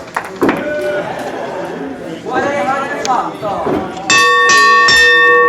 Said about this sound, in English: And there is the bell.